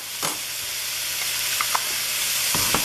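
Garlic and onion fry in oil for a Thai peanut stir fry, giving a steady, close hiss with a few scraping stirs of a utensil in the pan.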